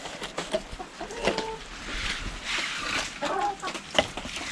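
Chickens cluck in bursts through a busy, close outdoor scene, their calls rising repeatedly over a steady background with scattered splashy noises.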